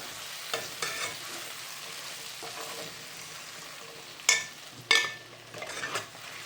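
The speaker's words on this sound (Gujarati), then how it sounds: "હવે આપણે છે ને ભીંડા એડ કરી દેવાના છે." Okra is tipped into a hot pan and fries with a continuous sizzle, broken by a couple of loud bright clanks and scrapes of the utensil against the pan.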